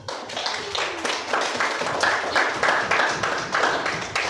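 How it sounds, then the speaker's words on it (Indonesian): Steady applause from a roomful of people in a classroom after a student group's presentation, many hands clapping in a continuous patter for several seconds, moderately loud and close. "Tepuk tangan untuk kelompok 1."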